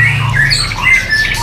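A young cucak aroma songbird calls from a small bird kiosk, giving short, bright squawking chirps close by over a low background hum, with no talking.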